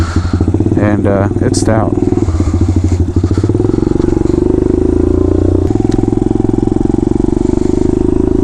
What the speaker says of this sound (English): This is a KLX 110 with a 143 bore kit on it.